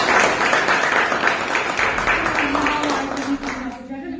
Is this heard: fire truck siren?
no